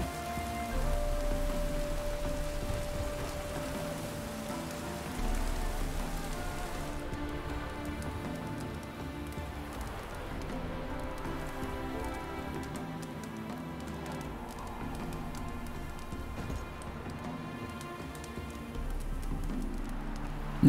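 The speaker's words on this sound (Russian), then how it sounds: "меня напрягает этот дождь" Steady rain falls in The Witcher 3: Wild Hunt, a continuous soft hiss of drops on surfaces layered with tonal game music throughout, with no talking.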